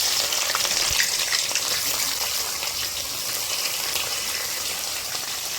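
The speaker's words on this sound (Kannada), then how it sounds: "ಈರುಳ್ಳಿ ಫ್ರೈ ಆಗಬೇಕು ಚೆನ್ನಾಗಿ ಅಲ್ಲ?" Onions crackle and sizzle steadily in hot oil in a pan while cooking spicy chicken wings masala, a dense continuous frying hiss at close range, with a faint voice in the background.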